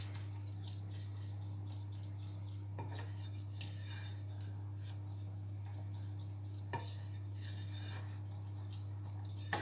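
Butter roux for IKEA-style meatballs being stirred in a pot, with faint scraping and clinking of a utensil against the pan over a steady low hum, a few sharper knocks standing out.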